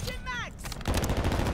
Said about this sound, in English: Oh, damn, I'm shooting at my own teammate